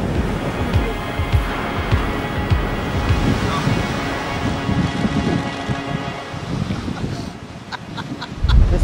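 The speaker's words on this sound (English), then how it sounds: "This is what happens when the wave closes out on you and you have to bail out" Ocean surf breaking on an Icelandic shore in strong wind, a loud rushing roar with gusty microphone buffeting throughout and a sharper surge near the end.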